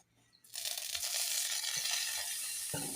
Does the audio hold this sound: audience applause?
no